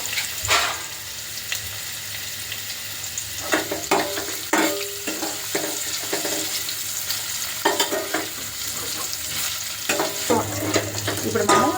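Paneer pieces roast in a pan, giving a soft, continuous sizzle punctuated by repeated light scraping and stirring clinks.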